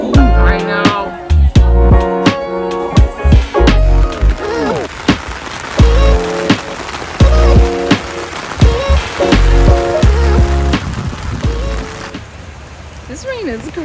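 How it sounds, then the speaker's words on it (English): Heavy rain pounds a surface in a steady, dense patter throughout, partly masked by people talking and music playing loudly over it. "This rain is crazy."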